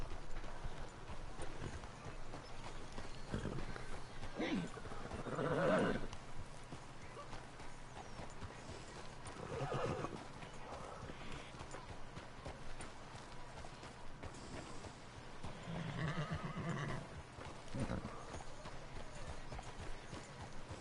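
Horse hooves clip-clop steadily through a Red Dead Redemption 2 ride, a continuous close trotting rhythm with a few louder swells and no voices over it.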